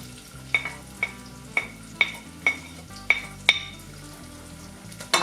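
Garlic, ginger and onions sautéing in ghee in a pan for an Indian dal, with a steady sizzle under regular clinks of a spoon stirring about twice a second, close and clear, with no talking.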